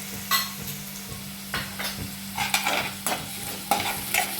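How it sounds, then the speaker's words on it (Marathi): Ginger garlic paste sautéing with onion in a hot pan, giving a constant close sizzle with intermittent scraping stirs over a low steady hum. "1 मिनिट आलं लसणाची पेस्ट परतून घेते."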